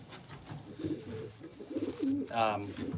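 Show and racing pigeons cooing in a breeder loft, several low rolling coos overlapping at close range, with a short brighter chirp or squeak near the end and faint background activity.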